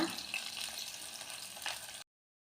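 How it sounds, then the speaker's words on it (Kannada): Small chopped onions sauté in hot oil for a fish curry, a soft, steady sizzle for about two seconds before it cuts to silence. "ಸಣ್ಣ ಈರುಳ್ಳಿನ ನಾನು ಕಟ್ ಮಾಡಿ ಹಾಕೋತಾ ಇದ್ದೀನಿ ಎಣ್ಣೆಯಲ್ಲಿ ಚೆನ್ನಾಗಿ ಎಲ್ಲನೂ ಬಾಡಿಸ್ಕೋಬೇಕು"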